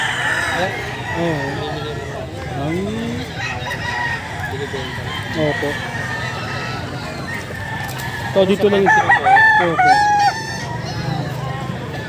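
Roosters crow repeatedly around a farm selling white kelso and grotto gamefowl, with clucking and a goose-like honk mixed in, loudest near the end, while people chat throughout.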